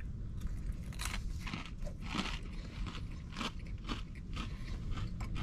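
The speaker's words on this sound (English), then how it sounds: "Super crunchy southern fried chicken." Bites into crunchy southern fried chicken, close and dense crackling crunches repeating over a few seconds with a low background rumble.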